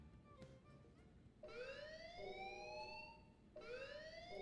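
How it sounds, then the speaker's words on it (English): Sirens wail in the Xenoblade Chronicles X video game with two rising, sweeping tones, fairly faint but clear against a low background hum. "Sirens, apparently."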